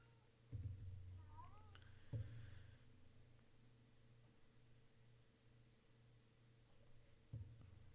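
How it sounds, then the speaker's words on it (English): A cat meows indoors, two faint rising calls early on and a brief third near the end, set against a steady low electrical hum. "The cat's meowing."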